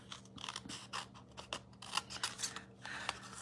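Scissors snip through stamped paper images for a handmade card, a run of short crisp cuts with soft rustling between them, close and fairly quiet, no talking.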